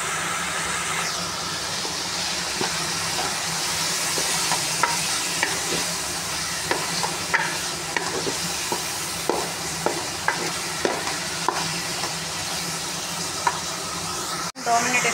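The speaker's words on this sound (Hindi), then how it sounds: "कीमा अपना 2 मिनट फ्राई करूँगी।" Chicken keema fries in a pan with a steady, close sizzle, while a spoon or spatula stirs and scrapes it in repeated clicks and knocks; the sound stops briefly near the end.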